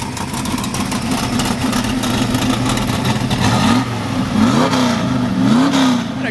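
A 1968 Chevrolet Camaro with a performance cam, Hooker Super Comp headers and electronic ignition rumbles loudly up close, a raspy idle lope broken by several quick throttle blips that climb and fall, with no talking.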